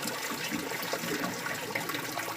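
Water rushing and gurgling through a pipe in a bioshelter sump tank as the siphon breaks, a steady loud turbulent gush that continues without pause, close by and alone with no voices.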